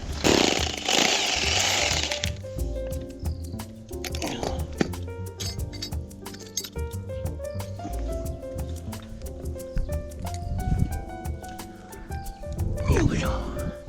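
A vibration hammer drill bores holes into asphalt, giving sharp, rapid hammering bursts that start and stop over the stretch, mixed with clinks and nearby handling sounds.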